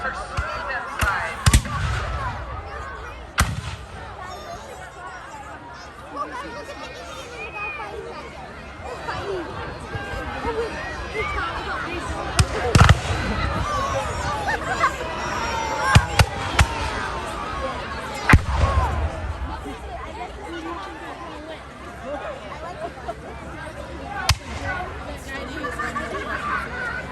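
Musket and rifle volleys from 1812 battle reenactors, with early rifled barrels among the sharpshooters, crack out as scattered sharp reports over a steady crowd murmur, several louder shots standing out through the long stretch.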